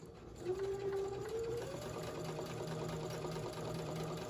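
A home sewing machine stitches a narrow seam with a steady, close, continuous motor hum and whine that briefly rises in pitch near the start and then holds even to the end.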